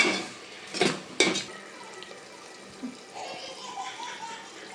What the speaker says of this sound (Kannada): ನೀಟಾಗಿ ಮಿಕ್ಸ್ ಮಾಡಿಕೊಂಡು ಮತ್ತೆ ಒಂದು ಫೈವ್ ಮಿನಿಟ್ ನೀಟ್ಗೆ ಫ್ರೈ ಮಾಡ್ಕೊಳ್ಳಿ